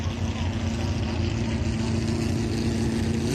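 A V8 superboat engine taken from a Toyota Hilux roars steadily at racing speed during a qualifying run on water at Temora, loud, continuous and droning with a constant pitch.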